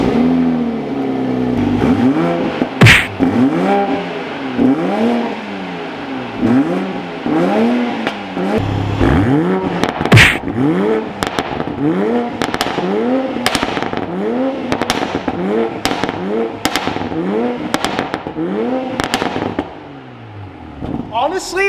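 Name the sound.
Toyota Supra stock exhaust revving in comfort and sport mode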